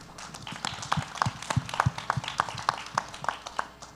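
An audience at a panel talk on innovation claps in a loose, uneven burst of hand claps, moderately close and lasting several seconds before thinning out.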